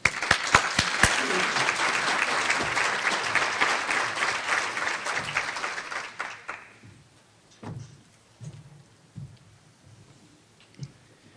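An audience applauds to welcome a keynote speaker at a talk, dense loud clapping for about six seconds that quickly fades to a few scattered claps and thumps in a quiet room.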